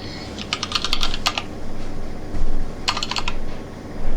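A computer keyboard sounds in two short bursts of rapid, crisp keystrokes, separated by a quiet stretch with steady room hum underneath.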